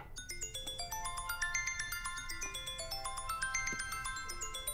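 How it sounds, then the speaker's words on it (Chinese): A phone's melodic ringtone for an incoming call chimes in repeating bright note patterns. It plays steadily and fairly loud over low background hum, with no talk. "安娜电话"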